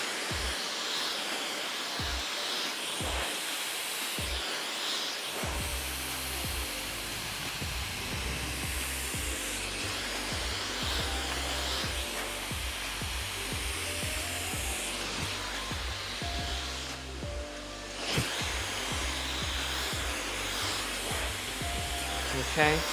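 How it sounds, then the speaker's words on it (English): A hair dryer blowing continuously as hair is blow-dried with a repair heat styling range for lived-in waves, a steady loud whooshing roar after a few short bursts at the start. "I'm gonna blow dry this back and down."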